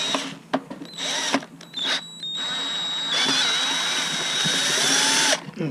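A power tool drives out two base screws while a gearbox is removed from a Terrain/Ryder tri, running in steady bursts with whining pitch changes, close and fairly loud, with short pauses between runs.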